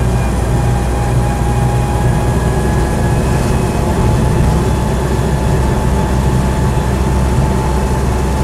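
A Land Rover Series IIa engine runs while driving, giving a loud, steady, droning rumble with a constant low hum and a faint whine, close and continuous throughout.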